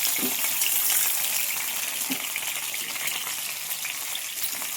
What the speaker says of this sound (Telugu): చూసారా ఆల్మోస్ట్ బాగా ఫ్రై అయింది ఇంకొక ఫైవ్ మినిట్స్ బాగా కుక్ చేసుకొని కలుపుకుందాం